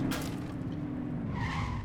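A car skids with tire squeal while being driven in the police game The Precinct, a steady loud engine drone under a rising screech near the end, with no talk.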